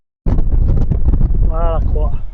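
Strong wind buffeting a microphone on a mountain top near Mont Puget, a loud, steady low roar that starts abruptly and continues throughout, with a person speaking briefly under it.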